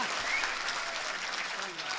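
A live audience claps with raised hands, a dense, steady wash of applause lasting throughout at fairly even loudness.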